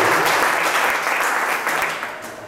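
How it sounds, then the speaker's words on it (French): A church congregation claps together in worship, a dense, full round of applause that holds steady and then gradually thins out toward the end. "On peut applaudir notre Jésus pour cela."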